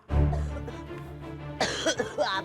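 A person coughs, first a deep heavy cough and then a string of quick, harsher coughs, close and loud.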